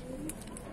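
A pigeon gives a soft, short coo, faint and close against quiet background noise.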